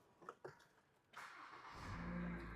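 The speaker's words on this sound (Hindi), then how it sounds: "इस गाड़ी को स्टार्ट कर लेते हैं।" A Honda Civic engine cranks and catches, a sudden broadband burst that settles into a steady, loud low idle hum, with no talking.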